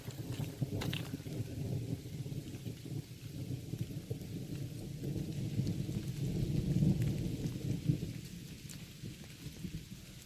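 Rain during a thunderstorm on a hike near a hilltop summit, a low rolling rumble of thunder swelling and fading under a soft steady patter of rain, fairly distant and subdued.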